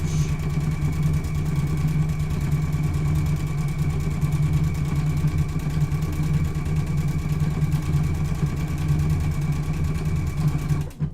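A Husqvarna Viking Epic 95Q sewing machine stitches a quilted table runner with a steady, close mechanical hum and rapid rhythmic needle chatter, stopping near the end.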